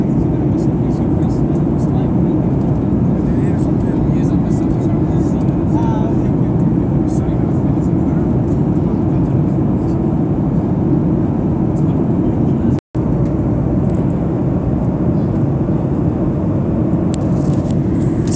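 Steady airliner cabin drone during a flight from Iceland to Stockholm, a continuous broadband engine and air rush that holds even and loud throughout, with one brief dropout near the end.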